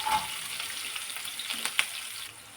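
Mustard seeds, cumin, lentils and curry leaves fry in hot oil for a cheese masala dosa, giving a steady close sizzle with scattered pops and crackles and a brief stir, then easing off near the end.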